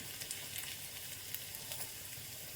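Mustard seeds, dried chilies and crushed garlic fry in ghee with a soft, steady sizzle and faint crackling pops, quiet and continuous with no voices.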